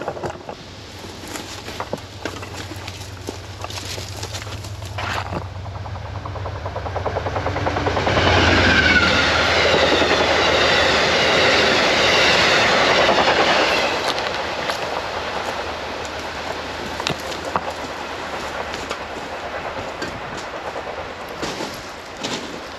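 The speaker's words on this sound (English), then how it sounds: "We got one. It's moving quick. Probably Amtrak." An Amtrak Downeaster passenger train passes on nearby tracks, its rumble swelling to a loud rushing roar with rhythmic wheel clatter before slowly fading away.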